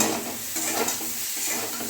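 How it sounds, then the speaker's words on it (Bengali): Pointed gourd frying in a thin, worn wok, a dense close sizzle of oil with scraping stir strokes against the metal, steady throughout with no talking. "পটল ভাজা হয়ে গেছে আমার এই কড়াটা না বড্ড পাতলা হয়ে গেছে"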